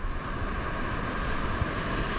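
Big ocean waves surge against a rocky shore after a storm, a steady loud wash of surf mixed with wind rumble across the whole stretch, with no one talking.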